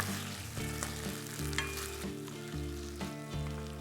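Spring onions are stirred into honey chilli potatoes in a pan over an induction cooktop. A steady sizzle runs under repeated scraping strokes of a spoon in a regular rhythm, close and moderately loud, with a low hum beneath.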